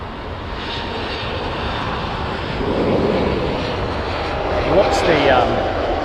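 Air China Boeing 747-8i jet engines roar steadily on a heavy departure, a broad continuous rumble that swells slightly midway as the jumbo passes, with faint voices in the background.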